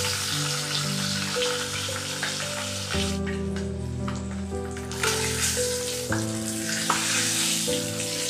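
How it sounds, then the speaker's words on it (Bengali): Eggs fry in a pan with turmeric powder, giving a continuous dense sizzle with crackling spatter throughout, over a faint steady tonal hum in the background. "অন্ডা গুটিকে ফ্রাই করে দেছি"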